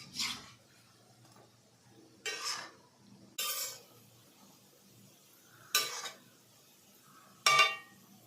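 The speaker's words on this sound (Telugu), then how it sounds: "మొత్తం వేసిన తర్వాత గరిటె తీసుకొని ఇట్లాగా మొత్తం కలపాలి" Ladle stirring a gulab jamun mixture in a pan, giving five separate short scraping strokes spaced a second or two apart, close and moderately loud against a quiet background.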